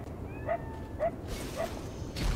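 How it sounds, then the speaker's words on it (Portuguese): Dog barking in the video game Lies of P: three short, clear barks spaced about half a second apart, moderately distant over a low background hum, followed by quieter game ambience. "Tem um cachorro muito chato latindo do jogo."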